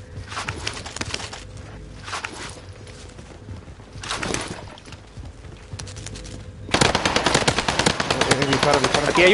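Rapid bursts of gunfire from shooting zombies in the video game Rebirth, rattling in short volleys, then a sustained loud stretch of fire near the end, with voices talking underneath.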